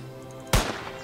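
A single sharp gunshot rings out in the Rail Adventures video game, one loud, abrupt crack that breaks a quiet stretch and leaves a short decaying tail.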